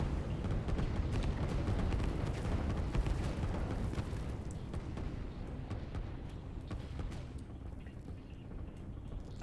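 Artillery units and destroyers exchanging fire in a real-time strategy game, heard as a dense, continuous wash of low rumbling booms and explosions that stays loud throughout, with sharper blasts scattered through the mix.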